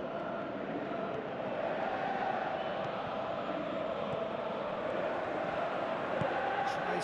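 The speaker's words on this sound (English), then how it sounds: "you can hear how the crowd are reacting to this too" A football stadium crowd at an Indonesia versus Europe classic match keeps up a continuous broad roar at an even level throughout. Commentators talk over it.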